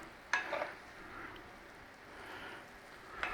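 A soft vegan egg substitute is broken up and stirred in a frying pan, giving a faint, steady low sizzle with a couple of brief scraping clatters at the start and end.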